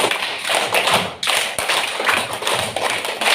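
Rhythmic hand clapping from a group of schoolchildren in a classroom, steady bursts of claps with a brief pause partway through, fairly loud and close.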